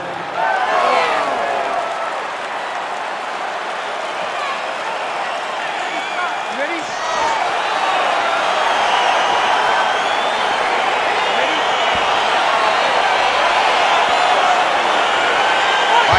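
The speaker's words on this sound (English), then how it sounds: "Crowd getting excited as this fight gets underway" Arena crowd in the UFC 4 video game cheers and roars as a Gustafsson versus Pereira fight gets underway, a dense, steady wall of noise that swells slightly midway and holds loud throughout.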